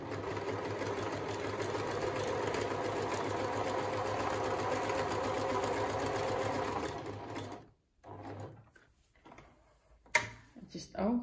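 A Pfaff Hobbymatic 907 sewing machine runs steadily at close range with a dense, continuous mechanical whir for about seven seconds, then stops, leaving a few quieter clicks and handling knocks.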